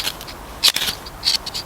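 Automatic ferro rod fire striker scraped to throw sparks onto tinder powder, two sharp rasping strikes about half a second apart, close and clear with no talk.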